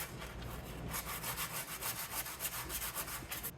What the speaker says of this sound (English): Try one of these spongy sand blocks.